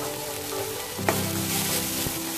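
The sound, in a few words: onions frying in oil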